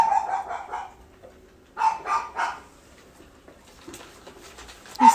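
A scared, hungry puppy with a lump on its side barks in short bursts: a few yips early on, then a cluster of three louder barks, with a final sharp yelp at the end, fairly close and otherwise quiet.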